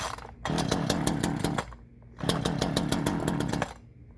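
A Black Max gas chainsaw engine revs in two loud bursts of high buzzing, each dropping back to a lower idle between, close up and with no talk.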